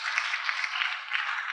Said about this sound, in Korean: 우리 다시 한번 박수